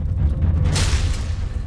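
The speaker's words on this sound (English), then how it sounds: "The explosion would unleash an unimaginable amount of nuclear energy and obliterate nearly everything within 2 miles of the impact zone." A nuclear explosion sound effect rolls out as a loud, deep boom with a rushing blast surge, layered over a heavy low rumble that keeps going afterward.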